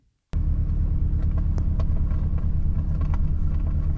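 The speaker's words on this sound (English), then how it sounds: "On to the exhaust videos, which are racing videos, but you can hear the exhaust." A 2025 VW GTI on an autocross track roars in abruptly and stays loud, a deep throaty exhaust rumble holding steady with occasional crackles, close and continuous.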